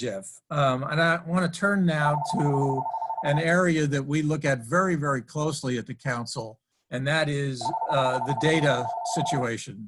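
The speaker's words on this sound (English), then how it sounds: "Sorry about that phone interruption" A telephone rings in two bursts of electronic trilling during a virtual online presentation on manufacturing, heard clearly under a man's continuous speech.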